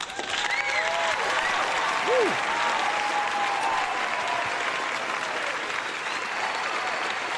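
Steady crowd-style applause runs for about seven seconds during a live trading stream, even and continuous with a faint warbling tone sweeping through it.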